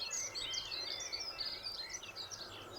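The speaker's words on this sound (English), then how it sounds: "we've got a lot of bird noise to contend with" Several birds chirp and sing in quick, overlapping calls, fairly faint and somewhat distant over a quiet outdoor background, with no one talking.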